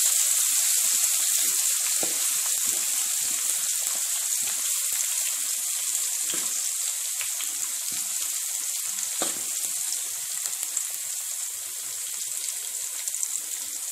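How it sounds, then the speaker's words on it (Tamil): Crushed garlic fries in hot oil, a loud continuous hiss and crackle that holds steady close by, with faint occasional pops and no speech. "அதில் நம்ம பூண்டு நசுக்கி வச்ச பூண்டு அதில் போட்டுடலாம். அதை நல்லா ஃப்ரை பண்ணுங்கள்."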